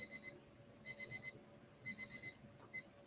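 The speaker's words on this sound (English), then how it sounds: "So even though my timer went off" A digital timer alarm beeps in short bursts of three or four rapid high-pitched tones, repeated several times with gaps, fairly quiet with a faint background hum and no voices.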